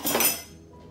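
A clinking kitchen measuring bowl is picked up and set down, producing a single bright ringing clatter that quickly decays to quiet.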